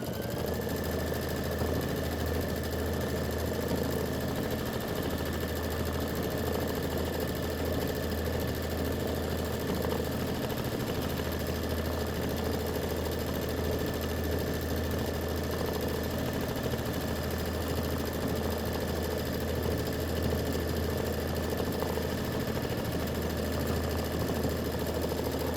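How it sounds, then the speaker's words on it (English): An embroidery sewing machine runs a quilting stitch on a wallflower quilt block, a steady mechanical hum with rapid needle vibration that continues unbroken throughout, no speech. "I'm just going to go ahead and hit start, do the quilting stitch. This is 2 minutes of stitching"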